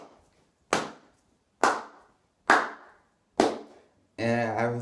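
A person imitates cheerleading with about five sharp, close hand claps at an even, steady pace, followed by a voice starting to speak.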